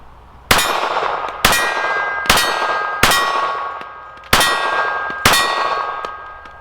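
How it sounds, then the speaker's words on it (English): .380 rounds from a small Beretta Pico pistol strike a steel gong target six times at irregular intervals, each impact a sharp metallic clang that rings on and fades before the next. "I'm going to just stick the gong right there in the middle"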